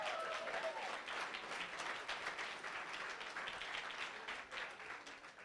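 Renewed applause for a powerlifting gold medalist at a bench press championship, fairly faint and distant, steady clapping with a brief whistle early on and murmured voices underneath.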